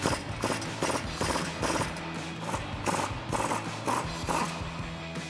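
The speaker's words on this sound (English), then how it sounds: "Now we can go ahead and remove the bolt using our 15mm socket and our 18mm wrench." A bolt on the front suspension of a 2011-2019 rear-wheel-drive Dodge Charger is loosened with a 15mm socket and 18mm wrench, giving a rhythmic series of close metallic ratchet clicks and knocks, repeated bursts without speech.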